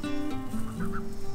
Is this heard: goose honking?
yes